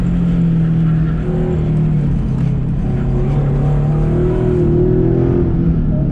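An FRS runs at full throttle on an autocross course, its engine a steady, loud drone that holds a sustained pitch for the whole stretch, heard up close with no talking.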